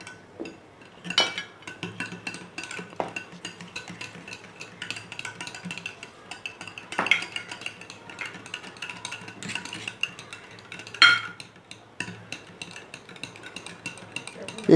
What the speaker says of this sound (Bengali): দেখি একটা ডিমটাকে পেস্ট করে নিচ্ছি, একটা হুইস দিয়ে